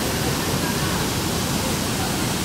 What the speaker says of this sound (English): And there the waterfall continues over there.